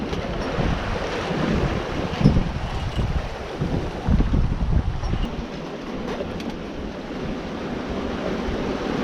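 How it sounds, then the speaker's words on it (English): Strong wind buffets the microphone in a continuous roar aboard a Contessa 26 sailboat at sea, mixed with rushing water and waves, loud and steady throughout. "and it's very windy"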